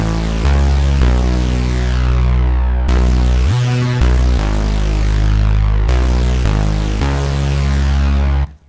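A dark, heavy synth bass with lots of sub plays sustained low notes that shift pitch every second or so, loud, thick and continuous before cutting off at the end.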